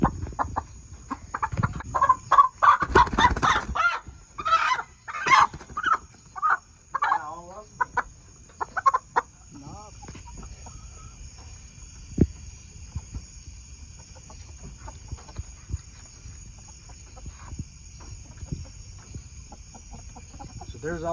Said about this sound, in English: There's all of our Rhode Island Reds.